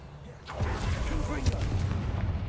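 A magical spell cast in Hogwarts Legacy, the Revelio reveal spell, sounding as a soft whooshing pulse that swells after a brief quiet and lingers under a low rumbling game soundscape.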